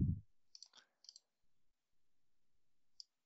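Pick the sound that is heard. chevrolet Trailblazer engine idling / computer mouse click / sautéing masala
computer mouse click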